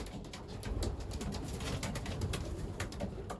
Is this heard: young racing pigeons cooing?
yes